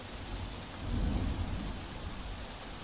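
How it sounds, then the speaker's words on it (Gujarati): Heavy monsoon rain pours down in Vadodara district amid flooding, a dense continuous roar with a low rumble swelling midway, no voices. "ગઈકાલે રાત્રિ જ ધોધમાર વરસાદ વડોદરા જિલ્લામાં વરસી રહ્યો છે"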